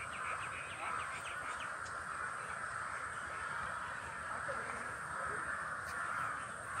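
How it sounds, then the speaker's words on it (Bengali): A crow cawing outdoors as birds fly past, with repeated harsh calls over a constant background hum and wind, and people talking nearby. "আর একটা পাখি উড়ে যেতেছে।"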